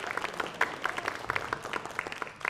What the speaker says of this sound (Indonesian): Tepuk tangan dulu buat yang cantik-cantik.